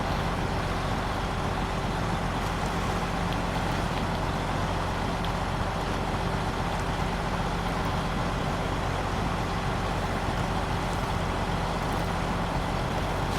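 A Kenworth truck in the SnowRunner game drones with a steady, unbroken engine rumble that holds at an even loudness throughout, with no talk over it.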